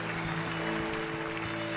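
Congregation clapping during a Sunday morning Baptist worship service, a steady wash of applause over held sustained musical tones, fairly distant and even throughout the short stretch.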